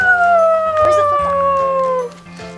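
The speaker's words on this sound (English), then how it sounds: "We got a new dog yesterday." A Boston Terrier puppy howls loudly in long, falling, wavering tones for about two seconds, close by, followed by softer whimpering noises.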